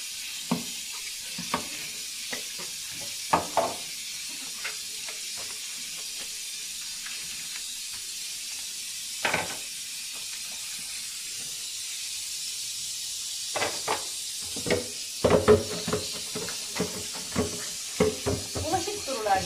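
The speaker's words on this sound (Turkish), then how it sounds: "Bir güzel duruluyoruz." Running water rinses a plastic vacuum cleaner dust container, a soft continuous hiss broken by scattered knocks and clatters of handling that grow busier toward the end.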